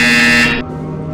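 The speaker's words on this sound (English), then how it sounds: "You will hear a buzzer." A loud electronic buzzer tone in the Portal Stories VR game, one sustained harsh blare lasting about half a second before cutting off, leaving a lower residual hum.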